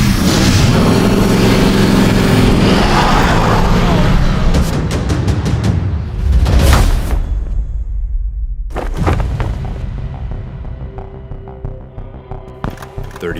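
A 1,500-horsepower Bugatti Chiron Pure Sport races past at high revs, a loud engine roar that swells and climbs through rapid gear shifts, cuts off sharply, then returns as a rougher, fading rumble.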